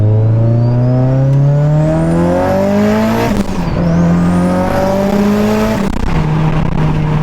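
A turbocharged Mitsubishi Evo 8 pulls hard in second gear, the loud, close engine note climbing steadily with rising whine, dipping briefly twice as revs drop before climbing again.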